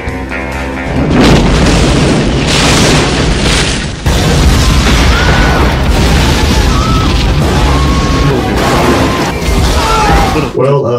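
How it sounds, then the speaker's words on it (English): Loud, continuous booming blasts roll one after another, dense and rumbling, with a brief break midway. "All I saw was a series of explosions"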